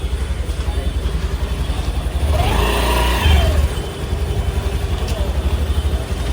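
A scooty scooter engine idles and revs briefly as the rider turns around in a cramped market street, a low throbbing hum swelling midway amid street background.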